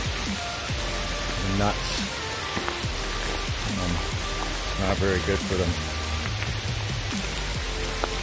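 Steady rain falling during a hike through Hendrie Park in Burlington, a continuous close hiss of drops on the surroundings, with someone talking over it throughout.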